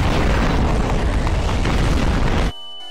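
A massive in-game explosion in Garry's Mod roars as a loud, dense, sustained blast for about two and a half seconds, then cuts off abruptly into a quiet tonal hum.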